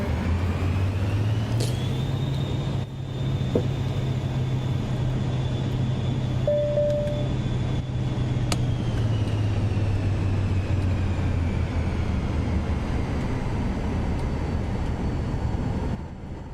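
Aircraft accelerating on its takeoff roll in Microsoft Flight Simulator 2024, a steady loud engine roar with a rising whine, heard close and continuous, alone without talk.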